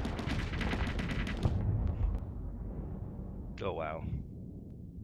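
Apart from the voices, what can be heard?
torpedo hits in Starsector video game space battle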